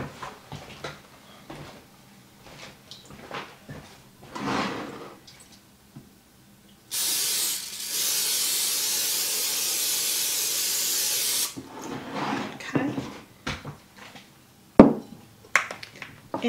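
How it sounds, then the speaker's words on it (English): Cooking spray hisses from a can onto a baking pan in one steady burst of about four and a half seconds, with light kitchen clatter and handling before and after. "I'm going to spray my pan."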